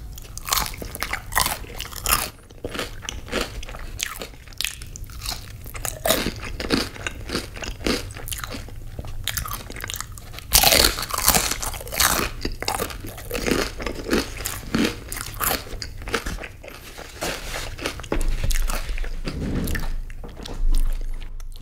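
Crunchy chili crisp shrimp from Panda Express bitten and chewed up close, a long run of loud, sharp crunches and wet chewing in irregular bursts with no talking.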